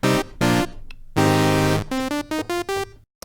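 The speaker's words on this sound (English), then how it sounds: "This template patch by default only plays the saw wave oscillator, which sounds like this." Arturia Jun-6 V software synthesizer playing its saw wave oscillator on its own: bright, buzzy sustained notes, first two short ones, then a long held tone, then a run of quick staccato notes, loud and close.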